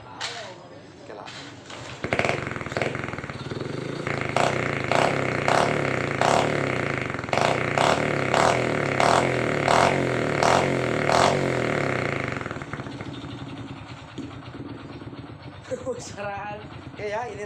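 A Suzuki Supra Fit motorcycle with a kleleper exhaust is idling low and smooth, then blips in a run of short, even revs before settling back to a soft idle, close to the microphone.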